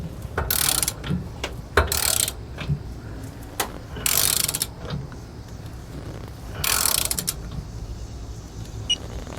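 A ratchet wrench tightens the bolts of a Blue Ox gooseneck-to-fifth-wheel hitch adapter. Several bursts of rapid, close clicking are heard in steady strokes with short pauses between them.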